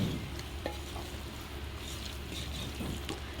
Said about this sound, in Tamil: இப்போ இந்த மசாலா எல்லாமே அந்த மட்டனில் நல்லா ஒட்டுற அளவுக்கு வதக்கிக்கணும்.